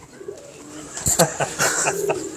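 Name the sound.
pigeon cooing while being handled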